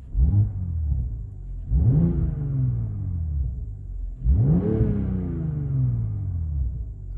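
A car engine sitting in neutral at a dealer-only auction is revved three times, each rev swelling to a loud roar and easing back into a deep, steady idle rumble.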